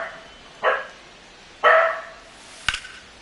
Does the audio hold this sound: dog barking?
yes